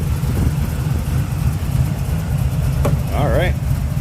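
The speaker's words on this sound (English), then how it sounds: "Smooth running engine." A 1973 Chevrolet Corvette V8 with HEI ignition and headers idles close by with a smooth, steady low rumble throughout, and a brief higher wavering tone rises near the end.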